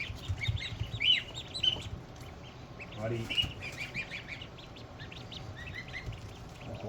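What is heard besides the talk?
ducks calling while being picked up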